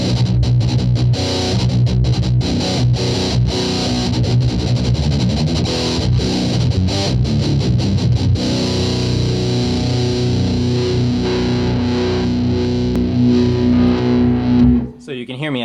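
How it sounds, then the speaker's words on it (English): Electric guitar played through an Electro-Harmonix Pocket Metal Muff Nano distortion pedal with mid scoop, heavily saturated metal chords and riffs, loud and continuous, ending with a brief drop near the close. "The Pocket Metal Muff from Electro-Harmonix, the Nano series. Amazing metal sounds"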